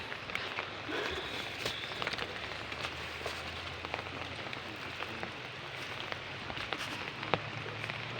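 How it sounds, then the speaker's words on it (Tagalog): Heavy rain pours steadily on a mountainside during flooding, a dense continuous hiss of drops on surfaces with sharp splashes scattered throughout and no talking. "Kasi sobrang lakas ng ulan."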